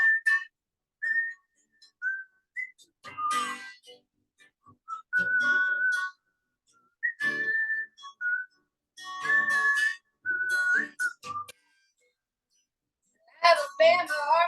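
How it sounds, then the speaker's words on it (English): Someone whistles a simple tune in short, wavering phrases separated by pauses, and brief bits of speech and breathy laughter break in between them, loudest near the end. "I was trying to whistle."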